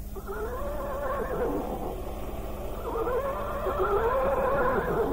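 A horse whinnies with long wavering cries over a steady low rumble, loud and continuous, as it sinks into the ground in an Indonesian drama scene with soldiers' horses vanishing into the earth.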